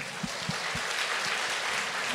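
Light applause from a Hokkien church congregation praising Jesus, faint scattered claps over a diffuse roomy background.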